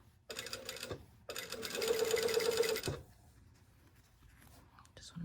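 A sewing machine stitches one layer of a garment collar down in two bursts, a short run and then a longer, louder stretch, with a near, steady whirring hum before it stops.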